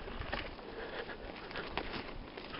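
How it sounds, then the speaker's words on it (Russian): Rain patters steadily onto a camera in a Belarus forest, a dense close crackle of drops with occasional sharper taps, continuous and fairly loud. "Чтоб дождь не забивал."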